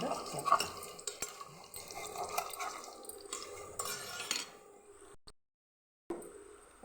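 Spoon stirring sesame seeds and other ingredients together for a Rajasthani Marwari chutney, a steady scraping, clinking mix close by that stops briefly near the end before resuming.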